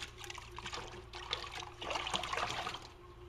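Wood ash is washed in water for a pottery glaze, with close splashing, trickling and sloshing that swells into a fuller pour of liquid partway through.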